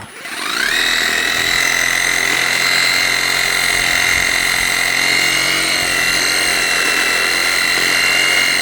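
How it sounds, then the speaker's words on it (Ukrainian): Reciprocating saw cutting through a tree root while uprooting a garden tree, a loud, steady whining motor buzz with a sustained tone that holds evenly for the whole stretch after a brief start. "Того сабельна пилка наше все."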